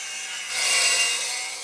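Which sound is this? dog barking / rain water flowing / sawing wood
sawing wood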